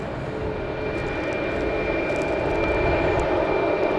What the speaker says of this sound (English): So we got a plane landing.